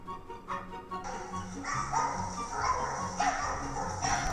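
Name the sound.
dog barking in a funny video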